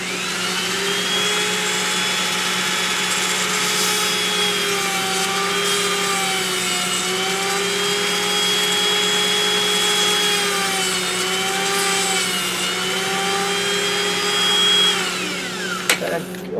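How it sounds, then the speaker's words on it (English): A power drill bores small screw holes in a turned wooden peppermill, a steady close whine with slight pitch wavers running for about fifteen seconds before winding down and stopping with a clunk. "So I'll go ahead and drill these holes."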